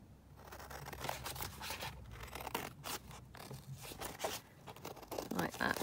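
Scissors snip and slice through fabric being cut straight across into small tags, a close run of crisp cutting and rustling strokes with slight scraping between them.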